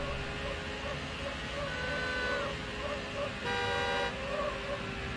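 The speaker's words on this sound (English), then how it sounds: "Honk." Car horn honks twice in Need for Speed: Hot Pursuit 2 on Xbox, a BMW island knockout race: two sustained toots of about a second each over a steady engine drone.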